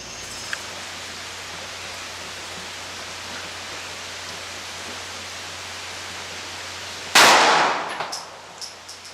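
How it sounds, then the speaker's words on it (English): A 9mm 124-grain +P round fires into a ballistic test block, a single sharp loud report after a long quiet stretch with faint steady hum, followed by brief decaying echoes and small clatters. "Next up is the shot on the block."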